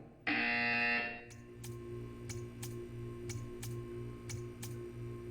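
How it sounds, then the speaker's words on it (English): A loud, harsh electronic buzzer from the game Portal 2 blares for about a second, followed by a steady electronic hum with regular soft ticking. "You will hear a buzzer."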